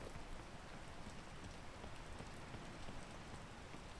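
Steady rain falling in the climbing video game PEAK, a continuous soft hiss of drops with no breaks, faint and even throughout.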